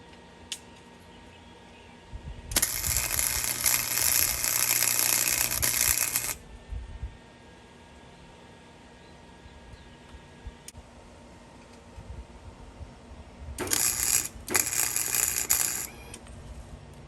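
Flux core welding on thin metal while working on a Honda GL500, two loud bursts of harsh crackling hiss, one about four seconds long and a shorter broken one later, with quiet ticking between.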